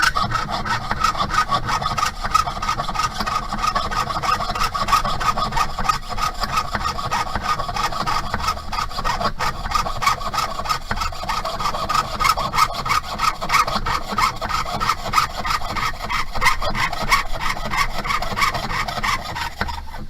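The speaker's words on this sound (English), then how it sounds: "it's not riveting, it's sawing." Rapid back-and-forth strokes of a fine jeweler's saw rasp steadily through metal, close and continuous for the whole stretch, with no talking.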